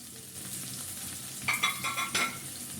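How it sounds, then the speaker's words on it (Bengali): Chopped onion and whole dried chilies frying in hot oil, a soft steady sizzle that is joined by a few louder crackling bursts as ingredients hit the pan, close, no talking. "তেলটা একটু গরম হলে এক কাপ পেঁয়াজ কুচি দিয়ে দেবো শুকনা মরিচ কয়েকটি আস্ত"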